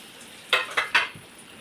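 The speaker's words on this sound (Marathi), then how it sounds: "त्याला थोडं तेलामध्ये फ्राय करून घेते" Taro leaf vegetable being stirred in hot oil with dry spices, three short sizzling scrapes in a row over a quiet pan, with no talking.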